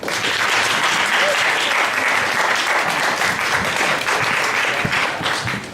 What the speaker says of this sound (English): Can we all give a round of applause to them?